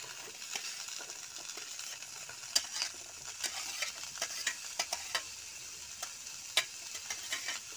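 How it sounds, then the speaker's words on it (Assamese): Taro, potato and red pumpkin stir-fried together in a pan for an Assamese curry: a continuous sizzle with frequent quick clicks and scrapes of a spoon against the pan, close and steady, with no voices. "আলু আৰু ৰঙালাও ধুনীয়াকৈ লাৰি দিব।"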